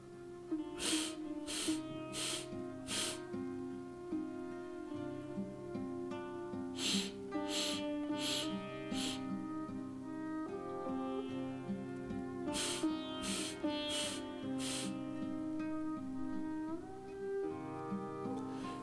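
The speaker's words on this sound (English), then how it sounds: "then you're going to inhale in 4 segments," Meditation breathing done in four short segmented sniffs, with quick bursts of four in a row repeating at steady intervals over soft sustained background music.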